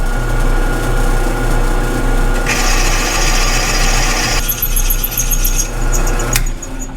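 A drill bores into a broken bolt in the rusted flange of an antique tractor radiator tank, giving a steady, loud high-pitched whine that shifts in pitch partway through, with metallic squeals near the end and no talk.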